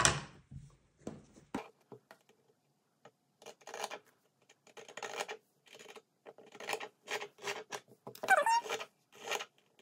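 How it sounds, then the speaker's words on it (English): Scissors cut a fabric triangle for a sewing dart, making a series of short, quiet snipping and rustling strokes in uneven bursts, close up in a quiet room with no talking. "we're actually gonna cut this triangle"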